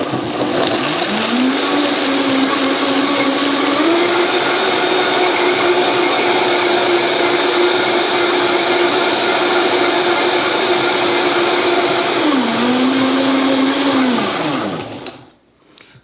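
A blender whirs loud and steady for about fifteen seconds while blending a green smoothie of leaves and liquid, its motor pitch dipping briefly near the start and again near the end before it cuts off.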